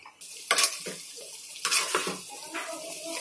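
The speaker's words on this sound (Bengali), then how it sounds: "এবার চিনিগুলি মিশিয়ে দিব" Sugar being stirred into a cooking pot, with bursts of metal scraping and clattering against the pot and a faint wet swishing between them.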